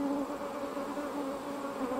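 Honey bees swarm and buzz steadily inside an opened hive during an inspection, a dense, continuous close-up hum with no talking.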